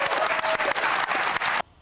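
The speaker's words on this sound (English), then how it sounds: "how about a round of applause for this panel?" A studio audience at a comedy sketch show bursts into brief, dense applause for the panel, loud and continuous before cutting off abruptly.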